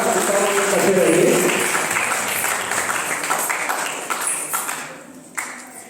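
An audience at a Sanskrit competition event in Kotabag applauds, dense clapping with a voice over it at first, fading into scattered claps and a few sharp taps toward the end.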